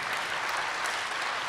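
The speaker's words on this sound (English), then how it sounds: "you can applaud him too, that's fine." An audience at a talk bursts into brief, steady applause, a dense wash of clapping hands with no speech over it.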